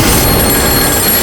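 A telephone bell rings steadily and loudly throughout, a continuous bright trill with no voices.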